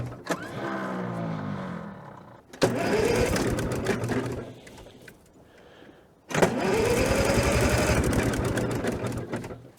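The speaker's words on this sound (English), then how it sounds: "I'm gonna crank it over and make sure we got fuel coming out of those." An Allis Chalmers crawler engine, long left sitting, cranks over by the starter in two long, loud bursts of steady whirring and chugging with a quieter stretch between them.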